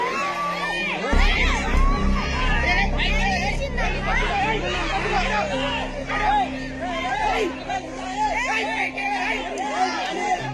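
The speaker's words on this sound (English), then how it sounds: "The crowd screams in fear and terror while the man attempts to scare the large predators" Onlookers at a lion enclosure shout and scream in alarm, a dense babble of many overlapping excited voices with high cries, close and continuous throughout.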